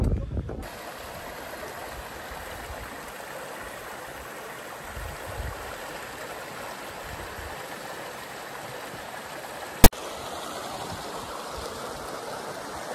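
Steady broadband rush of a stream at Río Seco in a mountain pine setting, flowing water filling the whole stretch with a constant hiss, one sharp click near the end, no voices.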